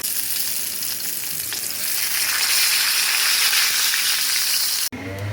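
Flour-coated, salted fish fries in a pan with a loud, steady sizzle and crackle of hot oil, continuous for several seconds before cutting off abruptly to quieter cooking noise.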